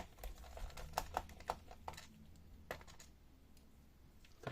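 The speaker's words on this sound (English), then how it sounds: "Now here we have 3 screws which we have to unscrew to release" Screws holding the keyboard of a Lenovo B50-30 laptop are turned out with a small tool, giving a run of light, close clicks and ticks that thin out into quiet.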